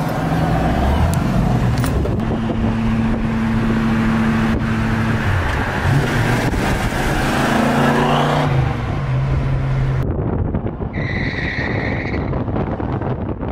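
A Ford Mustang drives on the road with its engine droning loud and steady and rising in pitch as it pulls. The tone shifts through gear changes, then the car eases off near the end.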